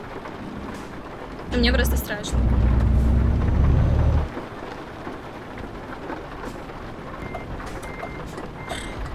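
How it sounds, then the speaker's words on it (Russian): Heavy rain pours steadily in Euro Truck Simulator 2 while driving a Renault truck behind a log-hauling rig, with a loud rumble of thunder early on and a voice speaking briefly over the downpour. "Идет ливень, и передо мной едет огромная фура с бревнами."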